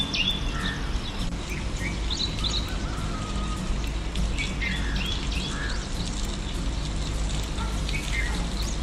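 Birds chirping at sunrise, scattered high tweets and short calls repeating over a steady background hiss, moderately close.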